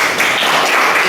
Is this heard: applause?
yes